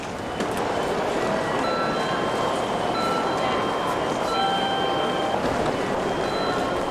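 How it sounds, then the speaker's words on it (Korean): A subway train runs through a busy Tokyo subway station, a steady loud rumble and rush of wheels with faint high squeals and tones drifting over the continuous roar. "일본 도쿄의 지하철역."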